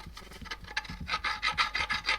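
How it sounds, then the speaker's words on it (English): A metal file rasps across an engine mount casing in steady, close, repeated strokes. The strokes grow louder and more regular midway and keep an even rhythm with no talking. "the file is making more marks on the casing than on the marks you've made with the chisel"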